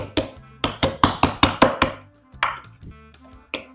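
Onion, scallion and fresh thyme are beaten on a board to soften them, a quick series of loud, close blunt knocks followed by a few scattered, quieter taps.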